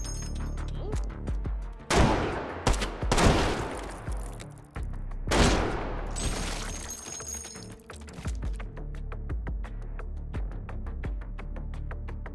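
Gunfire in the VR shooter H3VR: several loud, sharp shots with ringing tails, a dense cluster early on and then quieter mechanical clicks and thunks from handling the weapon.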